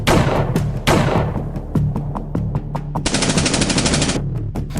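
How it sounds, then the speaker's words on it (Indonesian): Heavy gunfire rains on a hideout in a film action scene, with rapid machine-gun bursts, loud repeated cracks and a fast continuous rattle of shots, with no talking. "Drone berterbangan dan tembakan bertubi-tubi menghujani tempat persembunyian itu."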